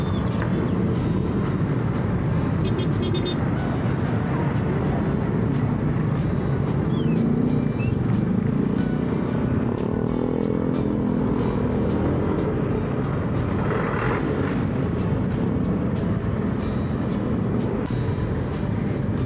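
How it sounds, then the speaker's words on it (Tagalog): Heavy road traffic on the C5 extension, heard from a motorcycle rider's position in a jam: a steady, loud rumble of car, bus and engine noise with no break, no voices. "Sobrang traffic dito sa extension ng C5."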